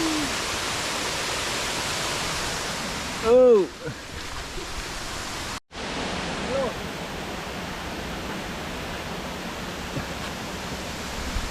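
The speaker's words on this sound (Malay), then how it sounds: "Sudah sampai air terjun Mas." A waterfall on the Gunung Nuang hiking trail in pre-dawn darkness roars as a broad, steady wash of water noise, with a brief voice and a short break partway through.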